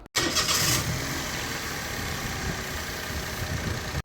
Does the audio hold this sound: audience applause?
no